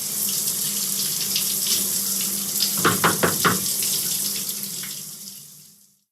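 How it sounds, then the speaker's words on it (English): Steady running water from a shower, a continuous close hiss with a few splashy bursts near the middle, then fading out. "There is the sound of water coming out of the shower."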